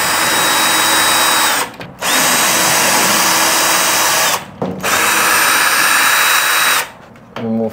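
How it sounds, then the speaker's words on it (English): An electric drill whirs loudly in three long bursts while dismantling a greenhouse roof, each spinning down briefly before starting again, with no talking. "Told you that electric drill would be a hit."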